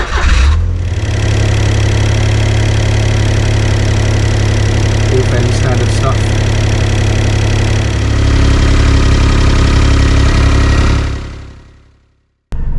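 A 2008 Smart Fortwo Pure 451 with a suspected clutch fault idles steadily and close by, its low engine drone holding for about eleven seconds before cutting off, with someone talking briefly over it.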